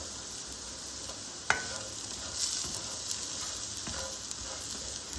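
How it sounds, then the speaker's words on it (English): Chenai roast sizzling and frying steadily in a pan, with a few scraping knocks of a spoon as the browning pieces are gently stirred. "Gently stir it so that the other side also gets done like this."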